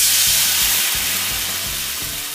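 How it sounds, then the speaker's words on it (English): Sauce hits a hot pan of teriyaki chicken, giving a strong steady sizzle and hiss with low rhythmic bubbling underneath, no voices. "And now I'm going to add sauce."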